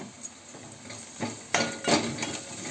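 A spoon stirring jackfruit curry with garam masala, turmeric and coriander powder in a pan, with several distinct metallic scrapes and clinks over a faint background sizzle.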